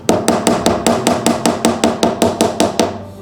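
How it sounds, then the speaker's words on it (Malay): A hammer strikes a metal bar fitted inside a ring, reshaping it with about a dozen even, ringing metallic blows in a steady rhythm, loud and close with no speech. "kita nak guna besi ni lah dengan tukul lah untuk katuk dia"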